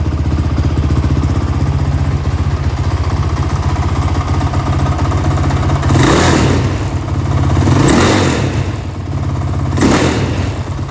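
A Yamaha Banshee 350 two-stroke ATV engine, started for the first time in months, runs loud and close, idling with a steady rattle, then revving in a few sharp bursts.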